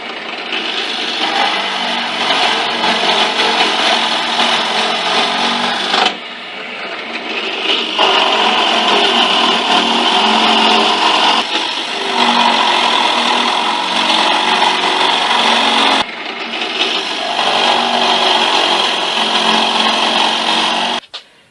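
A power drill drills holes in wood for lathe stand legs, whining loudly and steadily in three long bursts, pausing briefly between them, with no talking.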